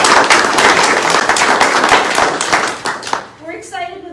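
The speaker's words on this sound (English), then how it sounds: "let's give it one more round of applause to encourage their campaigns" Audience applause for local town candidates at a party committee event, loud and dense close-by clapping that fades out after about three seconds as a voice begins speaking.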